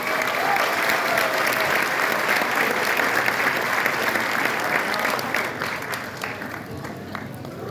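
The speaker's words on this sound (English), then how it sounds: "One last round of applause for Business Services." Sustained crowd applause at a graduation ceremony honoring a business services group, loud steady clapping that gradually thins and fades toward the end.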